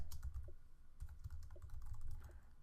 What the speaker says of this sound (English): So I just type that in.